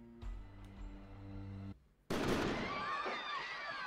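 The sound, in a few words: gunshot sound effect in audio drama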